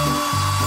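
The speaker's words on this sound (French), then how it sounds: "Non, mais oui, il faut avoir une sèche-cheveux." A hair dryer blows at close range, a loud, steady motor whine and airy rush whose pitch dips briefly and then settles again, used to thaw something frozen.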